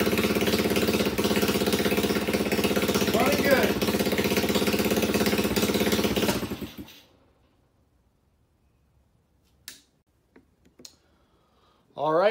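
A Chinese 110cc ATV engine runs steadily at idle with a fast ticking, clattering beat for about six seconds, then cuts out, leaving near silence broken by a couple of brief knocks and a short voice at the end.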